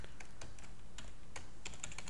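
Someone types a MySQL query on a computer keyboard, producing a series of separate key clicks in an uneven rhythm, close and moderately quiet, with no talk.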